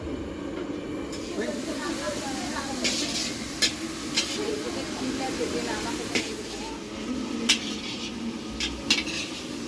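Potatoes frying in oil for a home-cooked Bengali meal give a steady hissing sizzle with occasional stirring clinks, while voices talk nearby.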